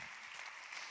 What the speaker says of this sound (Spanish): Dale un aplauso al Rey de Reyes en esta tarde